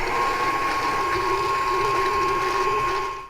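An electric mixer beats 1 1/2 cups of sugar into butter for snickerdoodle dough, giving a steady, close whirring motor drone that runs unbroken for a few seconds.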